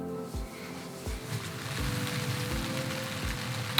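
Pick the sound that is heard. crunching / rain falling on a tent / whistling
rain falling on a tent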